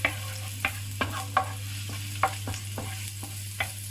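Garlic and ginger fry in a pan under a low sizzle, broken by about nine sharp scraping stir strokes at an uneven pace over a steady background hum.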